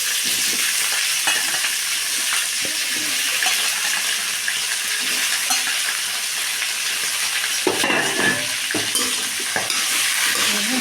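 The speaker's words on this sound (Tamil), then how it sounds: "நல்லா கலக்கிட்டுருக்குங்க" Cauliflower gravy sizzling steadily in a pan while being stirred, with a continuous hiss and scattered scraping taps, a few sharper clatters near the end.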